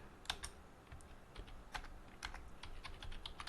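Rapid, quiet clicking of computer keyboard keys as code for a stored procedure is typed, irregular bursts of taps close by with no talk.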